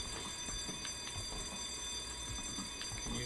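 A school alarm bell in the horror game White Day: A Labyrinth Named School rings continuously, a steady, dense metallic ringing that fills the whole stretch at constant loudness with no voices over it.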